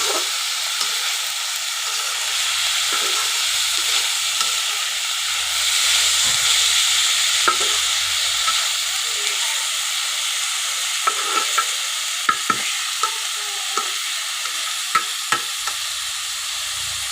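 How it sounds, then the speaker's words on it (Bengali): Bitter gourd frying with green chilies and salt in a pan, stirred gently: a loud, steady hiss of sizzling oil with a few light taps and scrapes toward the end, no voices. "আলতো হাতে আমি মিশিয়ে নিচ্ছি করল্লা আবার বেশি নাড়া যায় না"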